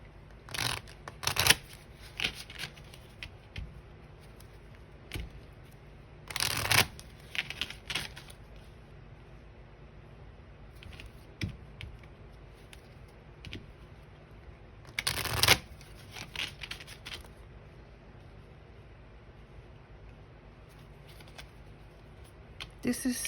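Tarot cards are shuffled in several crisp, riffling bursts separated by quieter pauses, close to the listener, with soft talk in the gaps.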